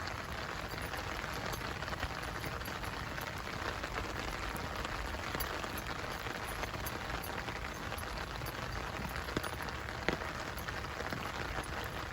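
Steady rain falls in a dense, even hiss, with occasional louder drops, continuous throughout.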